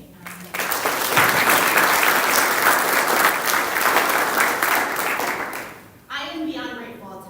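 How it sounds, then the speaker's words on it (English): Dense, loud applause fills a military retirement ceremony audience for several seconds, holding steady before fading out. A voice begins speaking at the very end. "round of applause for everyone who's put this ceremony together today"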